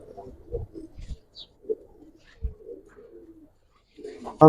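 Giribaz pigeons, including a single male, cooing in soft low repeated calls, several short coos spread across the moment with quiet gaps between them.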